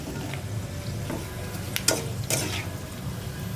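Homemade chips frying in hot oil as an evening snack: a steady, close sizzle with a few sharp crackles and spits standing out near the middle, and no talking.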